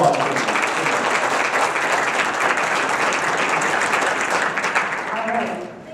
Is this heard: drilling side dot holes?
no